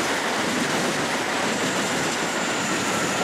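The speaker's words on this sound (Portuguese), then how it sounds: "Vai ter o subúrbio passando agora." A CPTM suburban commuter train passes a rail yard at Lapa as dusk falls. It makes a dense, loud, unbroken rumble and rush of wheels on rails that stays constant the whole time.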